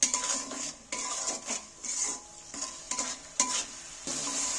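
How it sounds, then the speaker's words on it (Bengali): A spatula scrapes and stirs spice paste with water in a pan for potato dum, giving repeated bursts of sizzling and metal scraping in an irregular rhythm, close and fairly loud. "এইবার ফের একবার কষিয়ে নেব।"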